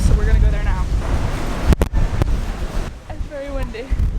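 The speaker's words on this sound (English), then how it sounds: "It's very windy." Gusty wind buffets the microphone beside the river on Aston Quay in Dublin, a steady roaring rush with a few sharp knocks, while a voice talks over it.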